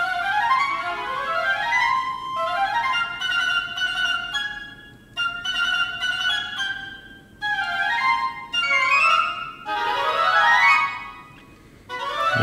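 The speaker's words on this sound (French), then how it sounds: "tous les glissando de bois, je vous les fais entendre juste eux, qui vont combler les trous laissés par la mélodie" Woodwinds from a Star Wars orchestral score play solo, with repeated bright rising and falling glissando runs, one after another, clear and close with short gaps between phrases.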